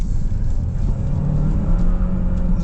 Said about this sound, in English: started to spin there a little bit, that was half throttle